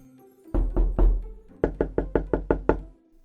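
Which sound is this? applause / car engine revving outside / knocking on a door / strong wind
knocking on a door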